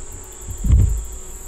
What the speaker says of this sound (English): Guard bees are just kind of guarding everybody else, keeping an eyeball on them.